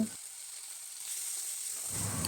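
Ground spice paste frying in oil for a Bengali rohu fish curry, a soft continuous sizzle and hiss at low volume, with a brief crackle at the start and end.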